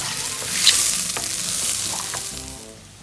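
Rice being stirred in a hot pan for chicken biryani, scraping and shuffling strokes over a steady sizzle, close and fairly loud.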